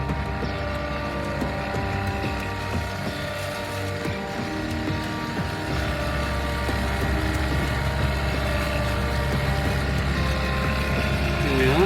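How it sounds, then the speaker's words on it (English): A boat's backup outboard motor drones steadily and loudly at close range, a continuous engine hum with no speech. "We're using our backup motor because the main motor is having problems with the overheating."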